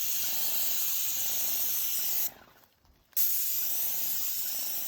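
Paint hisses from a sprayer onto a surface in a long, close spray, stops briefly for under a second, then starts again at full strength.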